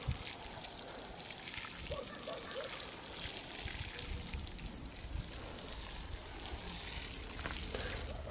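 Water is poured steadily onto a newly planted plant in a garden, a continuous soft splashing trickle with a constant noisy wash, close and low in level, with no talking.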